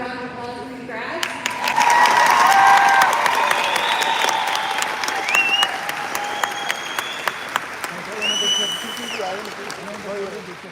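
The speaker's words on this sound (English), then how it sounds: "Give another round of applause for these grads." An audience applauds graduates at a graduation ceremony, with sustained, dense clapping that swells and then gradually thins out. A few faint tones and voices sit in the background.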